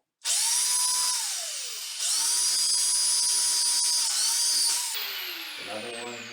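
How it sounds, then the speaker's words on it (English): A power drill bores screw holes into the floor to raise a toilet flange over tile, running loud and close in three steady high-pitched bursts with brief dips between them before winding down. "Okay, so we actually drilled 4 screws."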